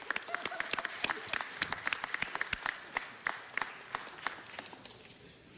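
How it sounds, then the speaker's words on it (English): A round of applause fills a city council meeting hall, many hands clapping in a dense, steady patter throughout that tapers off slightly near the end, with voices murmuring underneath. "Let's give her one more round of applause."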